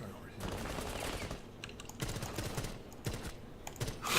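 Rapid bursts of gunfire from a video game, several clustered volleys across the span with brief gaps between them, fairly close and sharp, with a faint voice in the background.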